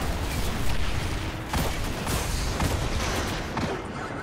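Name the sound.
explosions in Destiny 2 video game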